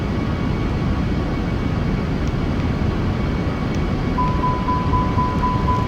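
Airbus A320 engines at full throttle in the Aerofly FS flight simulator, a steady loud broadband roar with a constant hum, no talking.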